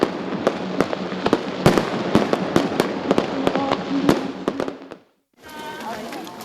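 Fireworks at the Moyangseong festival, an autumn event in Gochang: a rapid run of sharp bursts and crackles over a continuous rumble, loud and close, then a sudden drop to silence before a fainter stretch resumes.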